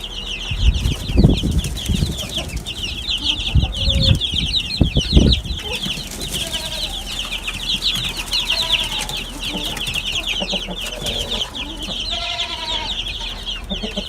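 Backyard chicks, several loud cluck-and-flap bursts at first, then steady high peeping and chirping continuing throughout at close range with no talk.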